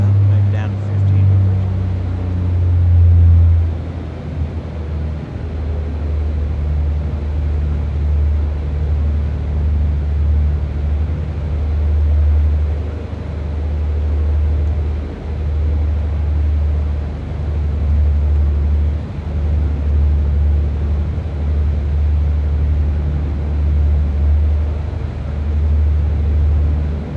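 A small plane's engine drones loudly and steadily in the cockpit on the flight from St Barts to Saba, its low hum dropping in pitch after a few seconds as the RPM is pulled back, with some talk over it.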